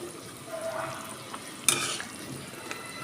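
Fish drops into a simmering curry of kohlrabi and potato, with soft bubbling and stirring, a sharp splash or clink near the middle, and light pan noise throughout.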